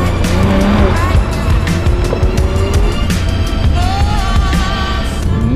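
A BMW Z4 M runs a slalom and reaction-time skill course, tires squealing repeatedly in long rising and falling whines over a loud, steady engine roar, close and continuous throughout.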